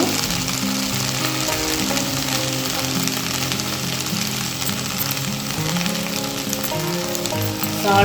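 Okra (bendakaya) frying in a pan gives a steady, loud, dense sizzle that holds without letup, with faint stirring scrapes underneath and no voices.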